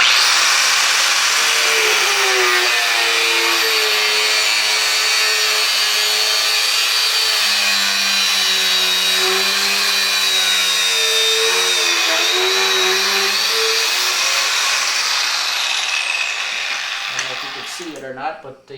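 An abrasive chop saw grinds through metal with a loud, continuous high-pitched whine and rough rasping that holds steady for many seconds, then winds down and fades at the end.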